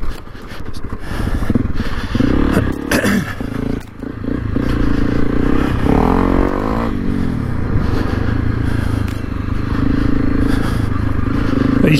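A Honda CRF300 Rally motorcycle rides over big loose rocks, its engine droning steadily while stones scrape and clatter beneath the wheels, with a brief rev midway and a faint voice in the background.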